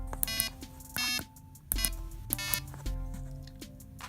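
Buzzy electronic tones from a homemade Arduino Uno piano after its potentiometer is turned, played as a quick series of short notes at shifted pitches, close by and moderately quiet, with no one speaking.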